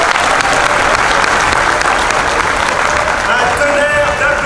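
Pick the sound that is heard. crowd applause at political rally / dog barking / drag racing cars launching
crowd applause at political rally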